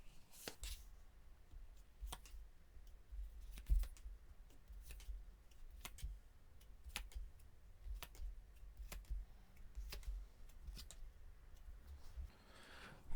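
Tarot cards are handled during a reading, shuffled and drawn in soft, crisp flicks and taps that repeat in an irregular rhythm. The sounds are close and quiet, with no talking.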